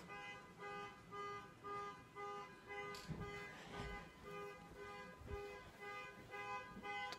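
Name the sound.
car horn honking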